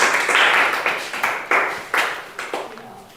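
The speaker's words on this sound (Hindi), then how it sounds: "इसलिए सुनीति पांडे के लिए एक जोरदार ताली बजना चाहिए।" Students in a Hindi dictation class burst into a round of enthusiastic clapping, a quick run of sharp, uneven claps that rises and falls in waves over a few seconds with no talking.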